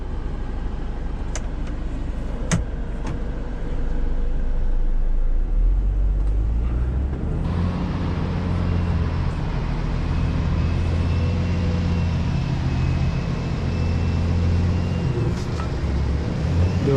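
A truck engine revs hard while the stuck vehicle tries to drive out of snow, a steady loud rumble that swells and thickens partway through and holds at a strained roar.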